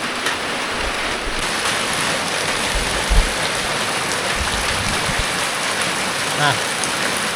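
Heavy, steady rain pouring during a flood, a dense continuous hiss of drops on surfaces with no break, loud and close, with a few faint low knocks underneath.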